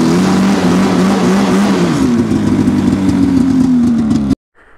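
Polaris Indy 600 snowmobile engine running loud and close, its pitch dipping and then holding a steady rough drone before cutting off abruptly near the end.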